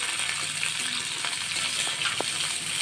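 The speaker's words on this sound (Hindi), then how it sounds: "थोड़ी देर फ्राई कर लीजिए" Tomatoes, capsicum and other vegetables frying in a kadai, giving a steady, even sizzle with faint clinks, close and continuous without talk.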